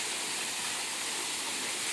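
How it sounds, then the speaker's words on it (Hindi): Natural waterfall pouring down at a rocky cave temple of Shiva, a steady, dense full-band rush of falling water that stays even and continuous throughout, with no voices over it. "और ऊपर से प्राकृतिक झरना"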